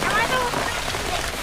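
Steady rain patters without a break at a camp in a cashew orchard, a dense close hiss across the whole short stretch with a faint murmur of voices beneath it.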